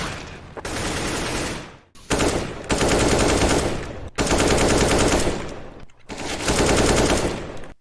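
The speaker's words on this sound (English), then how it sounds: "updates, like weapon sounds. Example of an AK-47." Full-auto AK-47 fire from Counter-Strike rattles out in four loud, rapid bursts separated by short silent gaps, with no other sound.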